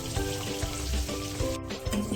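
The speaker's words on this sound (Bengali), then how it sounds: "এইভাবে আমি সব মাছগুলোকে ভেজে নেব।" Pabda fish frying in hot oil in a pan, a continuous close crackling sizzle with small pops, no talking.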